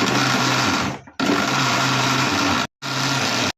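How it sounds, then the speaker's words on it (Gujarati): A mixer grinder churns slightly ripe mango in loud, whirring bursts: one run that winds down and stops, a second long run, a brief silence, then a third run. "આપણે કેરી દળી લેવાની છે સરસ રીતે"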